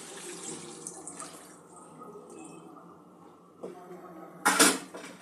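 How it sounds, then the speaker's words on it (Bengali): Water poured into a pan of paneer and pea curry with potatoes, a short loud splashing burst near the end after quieter kitchen clatter and faint running-water noise. "পরিমাণ মতন জল দিয়ে দেব।"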